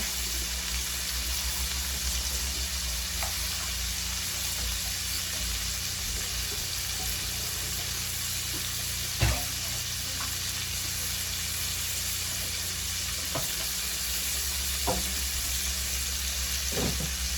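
Southern-style oysters frying in hot oil in a deep fryer, a steady broadband sizzle holding throughout with a few sharp pops and crackles, close and moderately loud, no voices.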